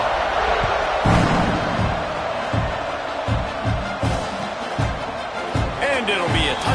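Football stadium crowd buzzing with a broad, steady roar after a score, with scattered louder swells and thumps throughout and a commentator talking over it.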